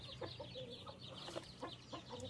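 Repeated harsh, rhythmic bird calls from guinea fowl, a chattering series of squawks at moderate distance over a low background hum.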